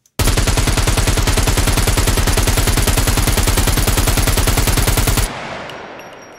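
Rapid, sustained automatic rifle fire in the survival video game Scum: one dense, loud burst of evenly paced shots lasting about five seconds, then a fading echo.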